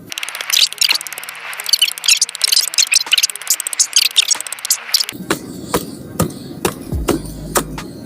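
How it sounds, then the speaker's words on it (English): A hammer taps repeatedly at copper stuck to a spoon, giving a fast run of sharp metallic knocks for about five seconds. A duller, lower clattering and scraping follows, with fewer, more spaced impacts. "let's just see if a few hits with a hammer can get it off"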